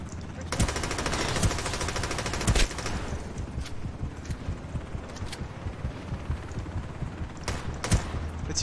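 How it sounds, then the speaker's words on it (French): Gunfire in the video game Ring of Elysium, loud bursts of rapid automatic shots early on and near the end, with lighter scattered game sounds and a player's voice in between. "Il faut que je fusille, je le fusille direct."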